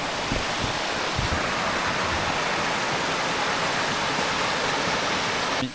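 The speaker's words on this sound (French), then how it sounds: "Après ça, là, c'est une petite cascade." Small waterfall in a Colombian jungle, a steady close rush of falling water with dense hiss and low rumble, continuous and alone.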